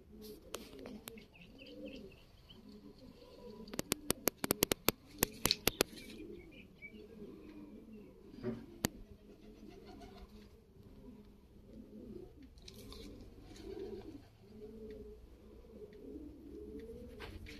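Uzbek pigeons cooing steadily in soft, rhythmic phrases, with a quick run of sharp clicks early on and faint chirps and insect buzz in the background.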